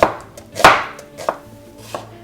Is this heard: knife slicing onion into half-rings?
yes